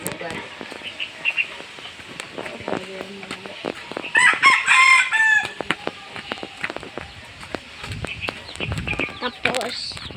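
A rooster crows near a house during a birthday gathering in the Philippines, one clear crow in the middle of the stretch, with people talking and clucking chickens around it.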